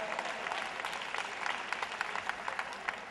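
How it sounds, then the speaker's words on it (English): An audience of parents at a school's fall conference applauds from a distance, a soft, steady patter of many hands with scattered louder individual claps. "You may as well go ahead on and clap."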